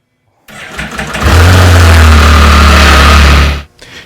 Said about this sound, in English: So I started the bike and the parking brake came off